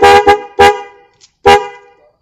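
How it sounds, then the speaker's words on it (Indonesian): Dual Denso waterproof horns, bass and high-pitched, fitted to a Yamaha Vixion 2020 touring motorcycle, honked in four short loud blasts with a quick double toot up front, close and clear. "Klaksonnya kita pakai yang Denso waterproof."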